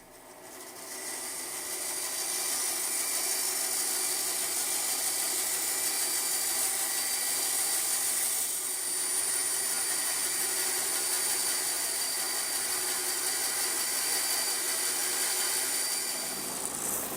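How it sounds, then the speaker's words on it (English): A bandsaw hums with a steady, bright, continuous whine while cutting wood for a key holder, close and loud throughout and without speech. "now I'll just take it over to the bandsaw and make the cut."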